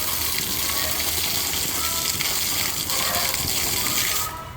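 Water gushing steadily from a barn water pipe as trapped air is bled out, a loud continuous rush that holds for several seconds before easing off at the end.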